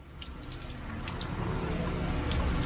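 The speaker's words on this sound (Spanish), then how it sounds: "Todo el que entra se da una ducha." A shower runs in the scrubbed-clean washroom of an underground neutrino laboratory, a steady hissing spray of water that grows slightly louder over a few seconds, with no talk.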